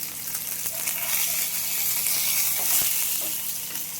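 Fish frying in hot oil in a pan, a steady close hiss and sizzle that runs through the whole stretch with no voices.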